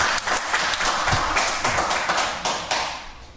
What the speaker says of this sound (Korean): 오늘 정기석 교수님께 큰 박수로 맞아주시기 바랍니다